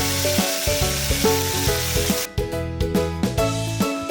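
Gravy cooks in hot oil seasoned with cardamom, cloves and cinnamon, giving a close, continuous sizzle and bubbling with intermittent stirring scrapes and pops, no voices.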